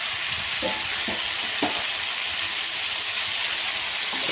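Vegetables and drumsticks frying in a pan for sambar: a dense, continuous close sizzle with a few spoon stirring knocks early on, no voices.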